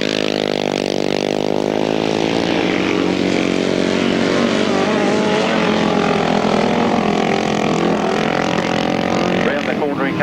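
A grasstrack sidecar motorcycle engine revs hard through a corner on its final lap at a 1994 national best pairs meeting, a loud sustained harmonic roar that shifts pitch as it passes, with a commentator talking over it.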